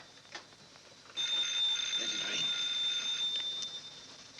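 A telephone rings at night with a continuous shrill metallic bell lasting several seconds, fairly close, after a brief spoken line.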